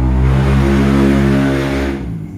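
A motorcycle engine revs loud and close at a workshop, a steady droning hum that holds, then drops off as the throttle is released near the end.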